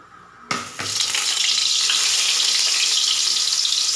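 Mustard seeds with crushed ginger and garlic drop into hot oil for a fish head curry, bursting into a sudden loud sizzle that holds strong and steady after a brief quiet start.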